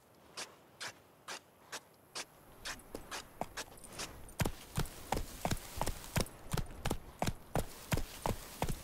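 The horse Roach's hooves in The Witcher Wild Hunt video game, a regular clip-clop of hoofbeats that starts slower and sparse, then quickens and grows louder into a brisk rhythmic trot.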